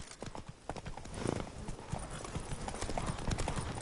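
Horse hooves clip-clop at a steady, brisk pace in The Witcher 3 video game, close and continuous under faint ambient game sound.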